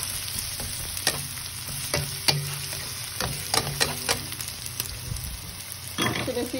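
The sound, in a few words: garlic and onions frying in a pan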